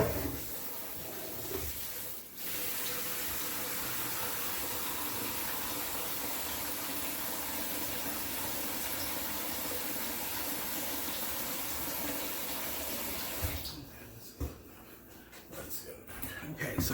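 Clean water pours steadily into a container as a broadband rushing hiss that continues for most of the stretch, then cuts off near the end, leaving a few brief knocks and handling sounds.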